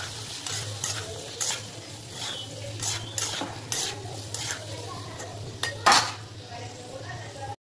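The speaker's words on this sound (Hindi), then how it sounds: "Mix mix mix." A spoon stirs mushroom gravy with chilli powder and spices in a pan, scraping and clinking against the metal in uneven strokes over a soft, steady sizzle, heard close with no speech.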